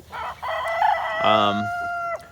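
A Bielefelder rooster on a Tennessee farm crows once, loud and close, in one long drawn-out call after a brief clucking burst from the flock.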